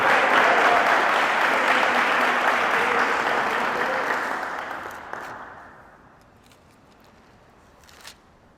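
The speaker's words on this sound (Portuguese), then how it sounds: "Aplauda o Senhor Jesus, a Ele toda a honra e toda a glória, aleluia!" A church congregation claps loudly and steadily, then the applause tapers off into near silence with a faint knock near the end.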